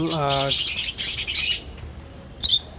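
Budgerigars in a cage chirp and warble close by, a dense burst of rapid high chirps followed by a brief pause and a few more calls near the end.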